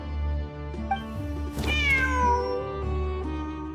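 A cat in Genshin Impact lets out a drawn-out meow that rises and bends in pitch, heard clearly over a layered, sustained game soundtrack.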